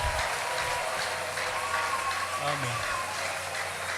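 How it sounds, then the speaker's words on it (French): Church congregation clapping loudly and continuously in praise, a dense steady wash of applause with voices cheering underneath. "On acclame très fort pour Jésus."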